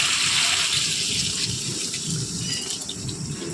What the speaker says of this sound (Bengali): তো চলো একটু জল অ্যাড করে নিই